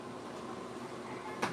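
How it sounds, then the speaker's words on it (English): A door is pushed shut in a home, giving one short knock near the end after a stretch of quiet room tone. "Shut my door."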